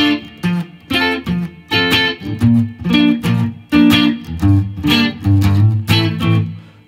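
A guitar plays the intro of the One Piece ending theme as a loud, distorted melodic line of plucked notes in short rhythmic phrases with no talking.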